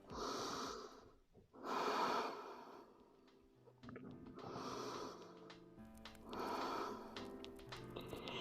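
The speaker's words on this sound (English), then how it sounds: "take nice, deep breaths" Deep, slow breathing from someone resting in child's pose after a home abs and arms Pilates workout: about four long, soft breath cycles with audible inhales and exhales, quiet and close.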